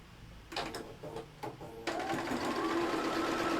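A sewing machine stitching fabric, starting with a few short stuttering bursts before running into a steady, close, continuous mechanical whirr with rapid needle clatter.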